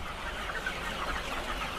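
Chickens on a farm cluck softly in a steady, crowded murmur of overlapping calls, with no single bird standing out and no talk.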